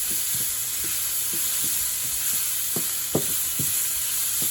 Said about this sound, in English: When the onions are half done, I added the banana pepper.